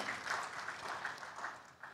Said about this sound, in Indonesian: Kita berikan tepuk tangan yang meriah untuk panelis kita di sesi satu ini